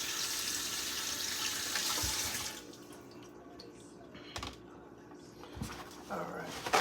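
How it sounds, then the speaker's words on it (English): Tomatoes rinsed under a running kitchen tap, with a steady broadband rush of water for about two and a half seconds, then quieter splashing and handling at the sink. "Let's give these a rinse."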